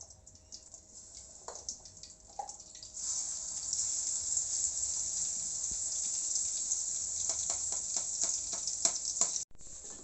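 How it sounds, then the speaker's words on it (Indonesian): A steady, bright sizzle starts partway through as spice paste hits hot oil, continuing loudly with a few clinks and light scraping. "Setelah minyak panas, masukkan bumbunya."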